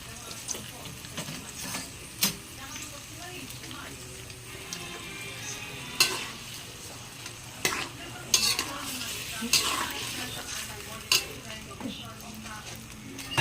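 Egg and tofu frying in a pan with ketchup added, stirred with a utensil: steady close sizzling broken by repeated sharp scrapes and clacks against the pan at an uneven rhythm, with talk at times.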